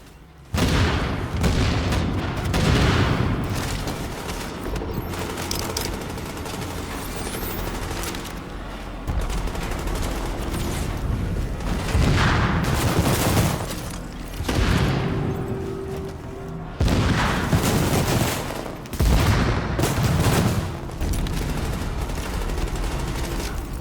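Heavy gunfire and repeated booming explosions from a sticky bomb and seeker mines in the video game The Division, with dense bursts of shots and blasts recurring loudly throughout, separated by brief lulls.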